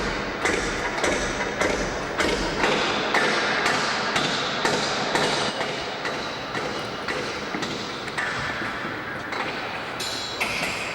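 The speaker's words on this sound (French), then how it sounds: "L'ajustement se fait côté échafaudage, à coups de marteau et au millimètre" Repeated hammer blows ring out on scaffolding while artwork is adjusted in a museum installation, a steady series of sharp, fairly loud knocks every second or so over a busy background.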